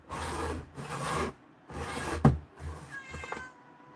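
A cat gives several drawn-out meows in a row, close and fairly loud, with short pauses between calls and a brief sharp knock partway through.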